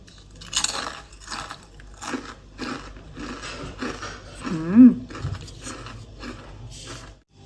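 Someone bites into a crispy Thai dok jok, an old-style fried flower-shaped snack, with repeated close, crisp crunches and chewing and one louder snap partway through.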